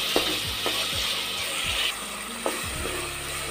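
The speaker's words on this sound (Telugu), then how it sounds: "పెద్ద సైజ్ టమాటా మొత్తం చిన్న చిన్న ముక్కలుగా కట్ చేసుకొని వేసుకొని వేయించుకున్నాను" Large chopped tomatoes fry in a pan with a steady soft sizzle, while a spoon scrapes and stirs in regular rhythmic strokes close by.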